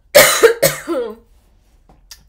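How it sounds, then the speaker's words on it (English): Two sharp, close coughs in quick succession, trailing off into a rough breathy rasp, then silence. "Oh, and I'm coughing."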